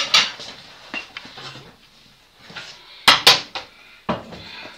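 Plates and dishes clatter in a home kitchen while a quick pan dish is prepared, with sharp close clinks and knocks in irregular bursts, a double clack near the end, and quieter shuffling between.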